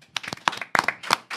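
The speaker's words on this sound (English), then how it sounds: "Let's give the Deacon a round of applause." A small audience claps for the Deacon at the end of a class, giving a sparse, uneven round of individual hand claps that comes in short bursts, fairly close.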